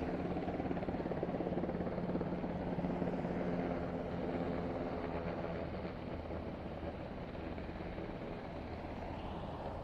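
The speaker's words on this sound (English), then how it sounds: "the helicopter now about to touch down" A landing helicopter's steady rotor thump and engine roar fill the air continuously in San Diego, loud and close, with no one speaking.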